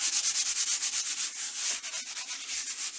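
Charcoal on paper is rubbed back in quick, regular strokes, a close, loud, rhythmic scrubbing hiss that goes on without pause and with no talking.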